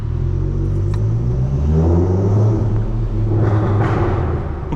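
Loud, steady engine drone from inside a Stage 2 tuned Golf Mk7.5 GTI sitting in a car park at night, a deep rumble that swells and eases slightly without clear rev peaks.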